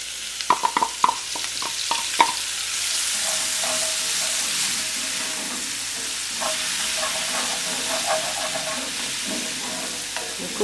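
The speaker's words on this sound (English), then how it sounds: "we'll make a gravy with what is left over in our pan. So we'll go in with some diced onion." Diced onion drops into a hot beef fillet pan and frying fat sizzles and hisses, with a few sharp clicks of a utensil at first, then a steady, close crackle.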